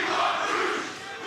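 A wrestling crowd in Philadelphia roars and shouts at a Ring of Honor event, a dense, loud wall of voices that swells briefly and then eases slightly.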